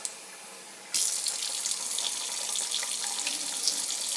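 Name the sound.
water running from a tap for bread dough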